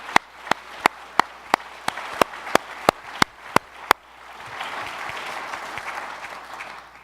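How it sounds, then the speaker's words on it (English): A conference audience breaks into applause: about a dozen single sharp claps tick out first at an even rhythm, then a fuller spread of clapping swells from the room and holds steady. "we really deserve a round of applause."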